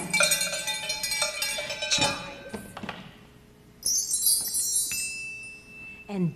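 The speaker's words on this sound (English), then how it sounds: "cowbells," Cowbells clank and jangle in a loose, irregular rhythm, close and fairly loud, with metallic clinks and a brief lull midway.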